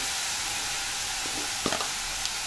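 Finely chopped onion, salted, frying in a pan while being roasted for a restaurant-style veg Kolhapuri curry; a constant close sizzle with a couple of brief scraping stirs partway through.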